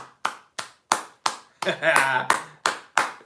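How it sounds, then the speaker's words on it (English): Sharp hand claps ring out in a slow, even rhythm, about eight in all, with a brief vocal sound in the middle. "Everybody, please, round of applause for the Don."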